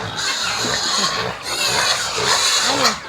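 Pigs on a farm grunting and squealing restlessly while waiting to be fed, several overlapping snorts and oinks close by, continuous and fairly loud.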